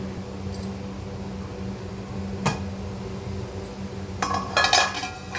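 A metal lid clinks onto a pot of vegetable pulao rice cooking on a gas stove, with one sharp clink followed by a cluster of rattling contacts against a steady kitchen hum.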